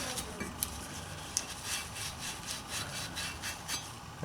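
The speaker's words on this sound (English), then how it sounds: "I'm going to clean up these sliders with a little bit of Scotch-Brite." Brake caliper sliders from a BMW 5 Series F10 are scrubbed with Scotch-Brite, giving a steady back-and-forth rubbing rasp with regular strokes, close and moderately loud, alone without talk.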